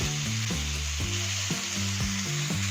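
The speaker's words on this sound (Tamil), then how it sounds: "இப்போ வந்து தேங்காய் எண்ணெய் ஊற்றிருக்கேன்" Coconut oil sizzles loudly and continuously in a non-stick tava, close up, over a steady tonal hum that steps in pitch.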